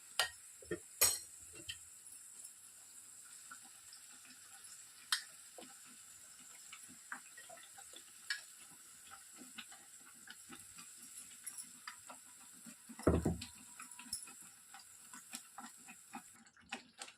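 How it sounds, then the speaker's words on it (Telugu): Tomato pachadi cooks on a low flame while being stirred: soft scattered ticks and scrapes of a spoon over a faint constant hiss, with one brief louder knock, quiet and close. "ఈ విధంగా లో ఫ్లేమ్లో పెట్టుకొని చిన్నగా కలుపుతూ దీన్ని లో ఫ్లేమ్లోనే ఉడికించుకోవాలండి"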